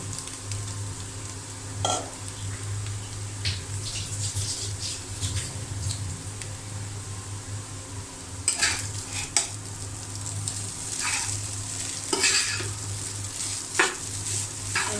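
Noodles frying in a pan are stirred with a spatula, a steady sizzle broken by sharp scraping clicks and taps against the pan at irregular intervals, close and fairly loud.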